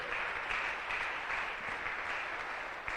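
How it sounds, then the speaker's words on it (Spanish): A church congregation claps together, a soft, continuous patter of many hands that sounds somewhat distant and stays even throughout. "Dale fuerte aplauso para saber que estamos aquí todos."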